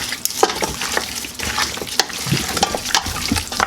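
Goat meat is mixed with spices in a bowl, giving close, wet squelching and stirring sounds in uneven bursts with soft clicks of the utensil, moderately loud and without talk.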